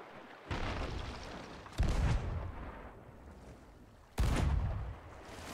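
Ship cannons firing in Sea of Thieves, three heavy booming blasts spaced a couple of seconds apart, each with a long rumbling decay, loud and close with no talk.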